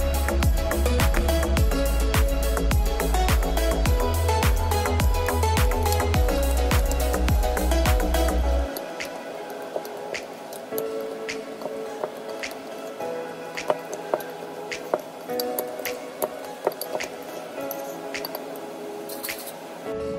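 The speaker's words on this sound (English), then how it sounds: "Smash them all together until the avocado becomes a fine" Avocado mashed with a fork into a paste for guacamole, with wet squishing and tapping clinks of the fork against the bowl, over a low background hum that cuts out partway through.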